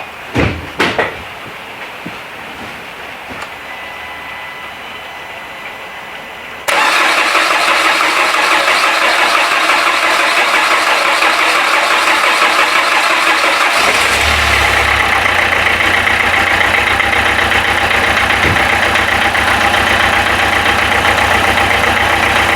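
A Renault Clio 3 with a faulty pressure regulator (détendeur) starts after a few knocks and a quiet pause, then its engine catches and settles into a loud, steady idle that shifts to a deeper tone partway through.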